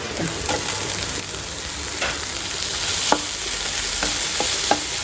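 Onion and tomato frying with ginger garlic paste in a pan, a steady broadband sizzle with occasional sharp crackles and stirring clicks throughout, fairly close and continuous.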